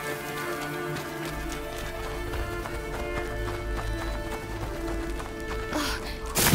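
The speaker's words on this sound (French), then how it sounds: "Oh, la cheval." In A Plague Tale: Innocence, a horse's hooves clip-clop in a steady rapid rhythm beneath sustained musical tones, with a sharp noisy burst near the end.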